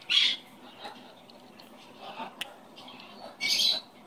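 A pet parrot gives two loud, harsh squawks up close, one at the start and one near the end, with quieter shuffling and faint sounds in between.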